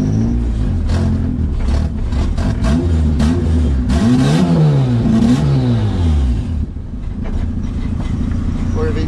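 A car engine running on E85 fuel and running poorly fills the clip, loud and close, with the pitch rising and falling through uneven revs and a faint voice underneath at times.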